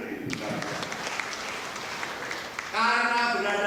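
Crowd applause at a Scout movement orientation gathering, a dense clapping wash from about 0.3 seconds that swells louder near the end, with no talking over it.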